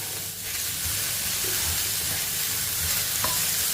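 Capsicum and carrot sauté in a hot pan with salt, giving a steady, loud sizzle throughout with soft scraping as the vegetables are stirred.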